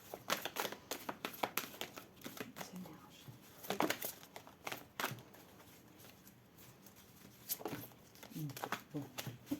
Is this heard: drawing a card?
yes